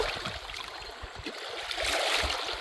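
A slag rock is rinsed in the lake water of Lake Erie, a close, steady splashing and gurgling wash that lasts a few seconds with no talking.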